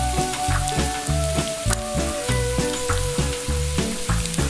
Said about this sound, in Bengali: এবার দাও কেটে ধুয়ে রাখা ধপধপে আলুগুলোকে